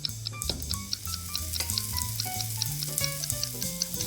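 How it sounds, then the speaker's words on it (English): Raw pasta simmering in liquid in a pan for a baked ziti, a steady close bubbling sizzle running continuously while quiet music plays alongside. "Now it's starting to simmer."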